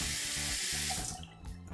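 A hotel room tap or shower on the sixth floor of the Hilton Grand Vacations Club at SeaWorld Orlando runs at strong pressure, giving a brief, steady, loud rush of water heard close up with no voices.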